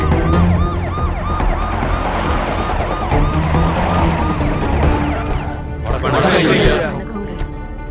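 An ambulance siren wails continuously in a movie scene, its rising and falling tone loud throughout, mixed with other street noise and a brief burst near the end.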